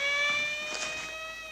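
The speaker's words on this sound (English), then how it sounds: "That's a police car." Police car siren from a 1971 British TV drama, a steady electronic wail with strong stacked harmonics, loud and close throughout, with no talk over it.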